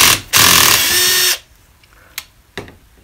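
A power tool whirs loudly for about a second while running a tap in reverse through aluminum on a van build, then stops, followed by a couple of sharp clicks in near quiet.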